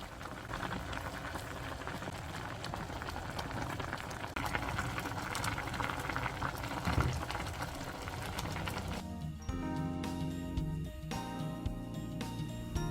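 Malatang broth bubbling at a steady boil with fish cakes, napa cabbage and bok choy simmering in it, a dense continuous seething close by with no voices.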